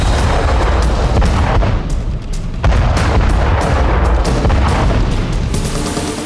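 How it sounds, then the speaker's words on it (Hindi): A powerful bomb blast in a hotel restaurant in Colombo, heard as a dense continuous booming roar with rumbling low end and crackling debris, loud and sustained throughout. "ब्लास्ट इतना जोरदार था कि रेस्टोरेंट तहस नहस हो गया"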